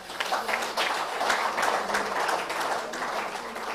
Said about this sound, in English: I think please give them a big applause.